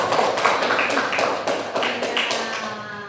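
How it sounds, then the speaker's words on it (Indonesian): A classroom group of students applauds, with brisk, loud, close clapping sustained for a few seconds and tapering off at the end. "Kasih aplaus untuk ya"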